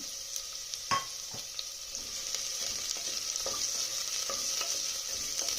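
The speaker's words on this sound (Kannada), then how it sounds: "ಇವಾಗ ಎಣ್ಣೆ ಬಿಸಿಯಾಗಿದೆ. ಇವಾಗ ನಾನು ಈರುಳ್ಳಿ ಹಾಕ್ತೀನಿ." Finely chopped onion sizzling in hot oil for a goat leg soup, with a steady frying hiss and a few sharp clicks of a spoon stirring in the pan, no voices.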